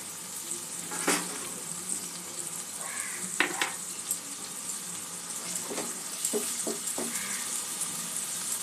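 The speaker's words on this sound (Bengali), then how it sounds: "টক দই দিয়ে আর একটু মশলাটা কষিয়ে নেব।" Masala with sour yogurt sautéed in a pan, a soft steady sizzle broken by several sharp scraping and tapping strokes of a spoon, close but fairly quiet.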